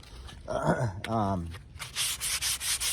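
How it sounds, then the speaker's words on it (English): Wood on a wheel hoe handle is sanded with 120 grit sandpaper to remove mold discoloration, a close, rhythmic scratchy rubbing in quick strokes that follows a short stretch of someone speaking. "So I'm going to sand that all off."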